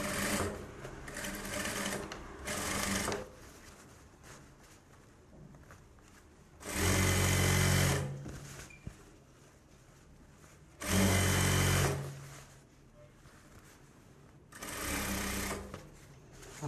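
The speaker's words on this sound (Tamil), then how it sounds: "நான் இப்போதைக்கு உங்களுக்கு தையல் போட்டு காமிக்கிறேன்." A sewing machine stitches a Bharatanatyam dance dress, running in four separate bursts of steady, fairly loud whirring, with quieter pauses in between and no talk.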